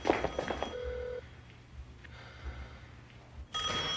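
A telephone rings in a police drama, with a short ring burst at the start, a longer tone, then quiet hum before the ringing resumes loudly at the end.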